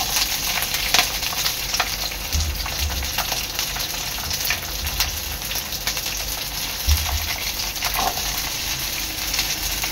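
Capsicum and onion fry in a little oil, a dense, steady crackling sizzle that carries on without a break, with a couple of faint low knocks from the pan.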